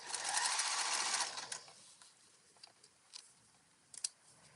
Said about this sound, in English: you can probably hear as we go through a lot more fabric, layers